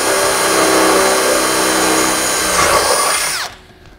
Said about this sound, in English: I'm just gonna drill straight through that hole.